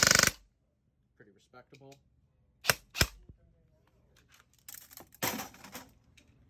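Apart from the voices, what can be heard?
airsoft gun firing with Eshooter Kestrel V2 ETU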